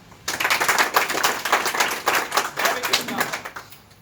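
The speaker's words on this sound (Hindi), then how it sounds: "इसके लिए चाहता हूं तालियां।" Clapping from an audience at a farming product presentation starts abruptly and runs as a lively, pulsing round of handclaps, moderately close, easing off toward the end.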